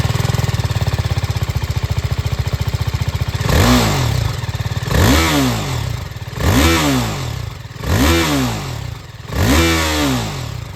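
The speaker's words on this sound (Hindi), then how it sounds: "इस बाइक को स्टार्ट करते हैं, इस बाइक का साउंड सुनते कैसा है।" A 2026 TVS Apache RTR 310 motorcycle engine idles with a rapid, even putter, then revs sharply four times, each rev rising and falling back, loud and close.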